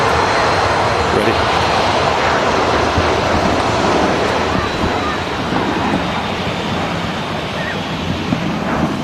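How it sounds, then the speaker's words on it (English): An airliner on final approach at Manchester Airport gives a loud, steady roar of broadband jet noise that stays constant throughout. "With the aircraft on final"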